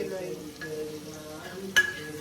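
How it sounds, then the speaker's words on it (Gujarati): Spices for a tempering hit hot oil in a pan, giving a short burst of sizzling that flares up sharply near the end over a soft kitchen background. "જો મસ્ત વઘાર માર્યો"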